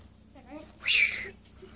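A homeless cat gives a short, loud meow, with a fainter chirp just before it, heard close to the microphone.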